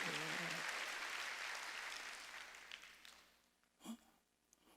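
Congregation clapping during a Korean church Sunday worship service, a broad wash of applause that fades away over a few seconds, followed by a short bump of voice near the end.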